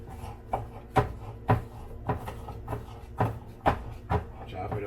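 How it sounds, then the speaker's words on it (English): A small knife chops food on a board in a steady rhythm of about two sharp knocks per second, fairly quiet and close by. "So we just got to use the little knife, chop it up"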